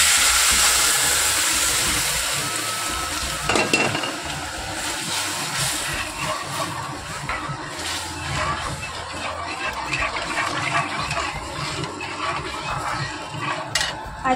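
Moong dal hits a hot tempering of green chilli and pickle oil, setting off a loud, steady hissing sizzle that starts strong and eases slightly, with faint clatter mixed in.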